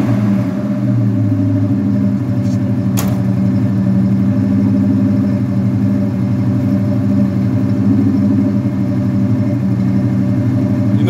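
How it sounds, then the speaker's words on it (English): A 442's engine rumbles steadily at close range, a low continuous idle with a single sharp knock partway through and no clear rev; its new exhaust pipes are not yet broken in. "Hit the gas one time though"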